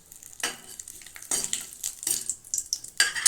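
Two bay leaves and two dried red chillies hit hot oil over roasted cumin seeds, giving a steady close sizzle with bursts of crackling and a few spoon-and-pan scrapes.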